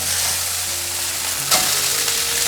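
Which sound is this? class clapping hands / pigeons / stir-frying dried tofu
stir-frying dried tofu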